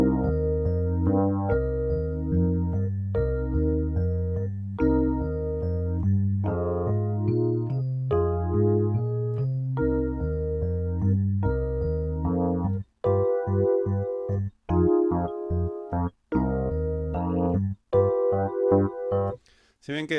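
Blues chords played on a piano, a steady comping pattern of rich sustained chords, then a shorter, choppier rhythmic section of detached stabs toward the end, with no talking.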